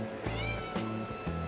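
A pet cat begging for pork chops meows close by, three short pleading meows in quick succession against a quiet kitchen background.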